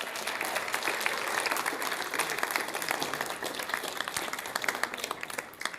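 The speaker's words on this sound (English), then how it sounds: "if we can just give our students a round of applause." An audience of a couple hundred people at a school district meeting applauds students, a broad wash of many hands clapping that runs steadily, with a few sharper nearby claps standing out and tapering slightly toward the end.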